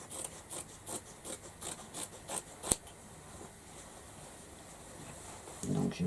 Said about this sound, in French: je vais déjà découper mon tissu pour choisir les parties que je vais utiliser